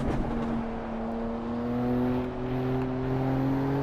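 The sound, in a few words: car engine revving in video game Assetto Corsa Evo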